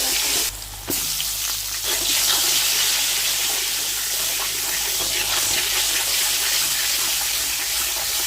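Water pours into a pot of hilsa fish curry cooked with green banana, a steady close rushing splash that runs on without a break and with no voices.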